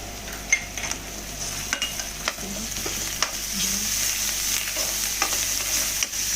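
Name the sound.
turmeric and ginger garlic paste frying in pan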